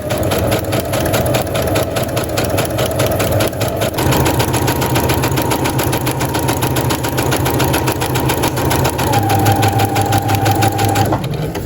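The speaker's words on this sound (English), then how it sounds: "now we can start off by sewing right up at the top" A sewing machine stitches fabric for a Barbie doll outfit, running in a continuous fast mechanical whir with rapid needle clatter, loud and close, pausing briefly in pitch changes without any talking.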